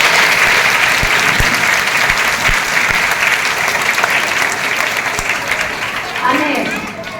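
Students and teachers at a school enrolment festival burst into loud, sustained applause close by, which tapers off slightly toward the end, while a voice speaks over it.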